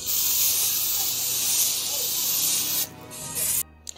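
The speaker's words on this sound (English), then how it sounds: "you're going to need some cooking oil spray and spray those cookie" Cooking oil spray hisses onto cookie sheets in a long continuous burst, close and fairly loud, followed by a shorter spurt after a brief pause.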